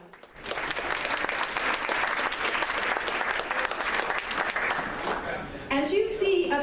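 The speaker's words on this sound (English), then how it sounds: "So let's give them a round of applause." Festival audience applause for sponsors at the Frozen Apple Festival, loud and steady clapping from a crowd that swells quickly and holds for several seconds. Near the end a voice starts talking over the fading applause.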